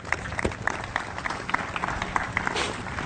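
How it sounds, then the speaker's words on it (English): Applause from participants at a tennis coaching conference, a scattered round of clapping over a noisy room, brief and moderately loud with some background voices. "Applause aquí for my friend."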